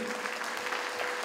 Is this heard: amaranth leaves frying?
no